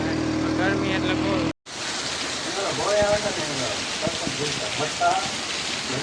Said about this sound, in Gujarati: કેમ છે બાકી વરસાદ ચાલુ છે